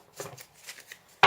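Tarot cards being shuffled during a reading, a few soft papery riffles ending in a brief louder flurry of card flicks, close and with no talking.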